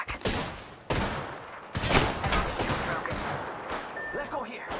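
Gunfire from the battle royale video game Apex Legends, in bursts and rattling volleys of shots that repeat across the clip at close range, loud and sharp.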